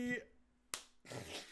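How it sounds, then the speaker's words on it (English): During a tabletop Commander card game, a single sharp hand clap cracks out close by, between a brief voice before it and a noisy rush of sound after. "Do your clap again."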